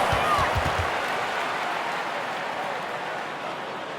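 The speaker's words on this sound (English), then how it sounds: "Give yourself a round of applause!" Crowd applause in a basketball arena: a broad, steady wash of clapping and cheering fills the hall, starting with a brief burst of voices and then holding even before easing slightly toward the end.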